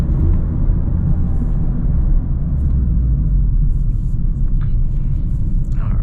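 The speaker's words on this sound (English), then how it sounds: "to also hear how it is to drive this Miata out of the first person" Interior road noise from a 2021 Mazda MX-5 Miata RF with a 6-speed manual cruising on a highway, a steady low rumble of engine and tires with no talking.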